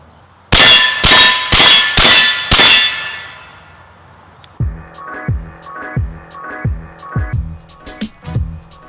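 A 300 Blackout AR-15 fires a quick string of five shots, each ringing a steel target with loud bright clangs, then a pause before a longer series of fainter, more distant dings at a steady rhythm, no voices.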